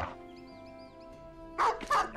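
Two sharp dog barks from the game Battle Brothers ring out near the end, following a stretch of quiet game ambience with faint bird-like chirps.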